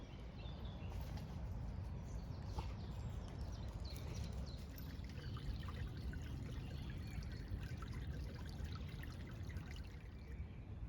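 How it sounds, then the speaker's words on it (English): A brook flows along the bottom of a wooded valley, giving a steady broadband trickling and pouring wash that runs unbroken throughout, with faint bird calls above it. "There's the brook at the bottom there"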